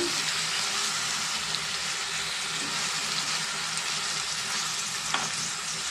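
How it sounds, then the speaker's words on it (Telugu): A steady, close sizzle of food frying on a low flame with turmeric and salt, continuous and fairly loud with occasional stirring, with no talking. "సింగిలో పెట్టుకొని ఫ్రై చేసుకున్నాం"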